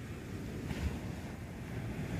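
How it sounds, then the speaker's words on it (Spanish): Sea waves wash onto a nearby beach in a steady, broad rushing roar mixed with wind noise on the microphone, with no voices. "¿Lo escucháis el mar?"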